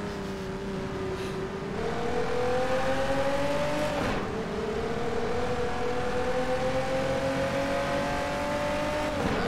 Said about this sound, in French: Ah, excellent le bruit du V12.